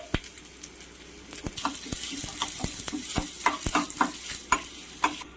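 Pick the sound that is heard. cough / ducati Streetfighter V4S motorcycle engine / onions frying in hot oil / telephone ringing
onions frying in hot oil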